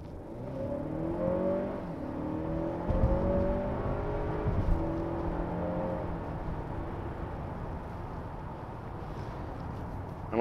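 A 2018 Honda Accord Touring with the 2.0-liter turbo engine pulls hard from inside the cabin. Its engine note rises smoothly and falls back at gear changes, then settles into a steady whir at speed.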